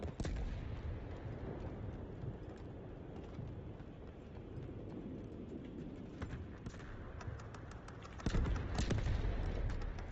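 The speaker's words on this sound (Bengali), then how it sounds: "ও এখানে তো গুলি চালাচ্ছে" Gunfire and explosive blasts from a Delta Force co-op match crack in sharp bursts amid steady background battle noise, the shots growing louder and denser toward the end.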